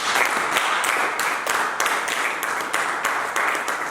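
A church congregation applauding in praise of God, a steady round of many hands clapping with a faint rhythmic pulse, fairly close and sustained throughout.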